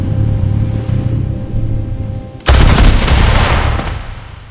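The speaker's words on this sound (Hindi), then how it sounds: "अपनी पिस्टल निकाली और लगातार 9 गोलियां" A pistol fires a rapid burst of nine shots, a sudden loud crackling volley that follows a steady low engine rumble and then decays over about two seconds.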